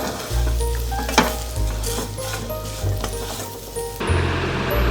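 Vermicelli sizzles steadily as it fries in a pan toward a light brown colour, with occasional stirring scrapes and clinks over the continuous hiss; no one speaks.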